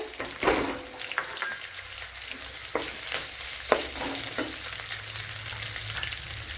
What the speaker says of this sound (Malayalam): ചെറിയൊരു പീസ് ഇഞ്ചി ഇത്രയിട്ട് കൊടുത്തൊന്ന് വഴറ്റി എടുക്കാം